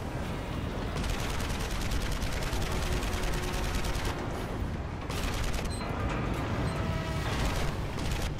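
Dense, continuous gunfire from the video game Marlow Briggs and the Mask of Death, rapid overlapping shots and bursts at steady high loudness with booming low rumble throughout, no voices.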